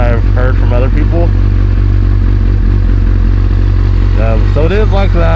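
A carbureted motorcycle engine idling steadily after a cold start, loud and close with a constant low rumble, while a person talks over it at the start and end.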